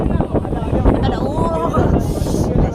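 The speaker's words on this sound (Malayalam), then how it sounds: "ഇവിടെ ഭയങ്കര കാറ്റാണ്" Strong wind buffets the microphone in a continuous roar, with a voice talking underneath.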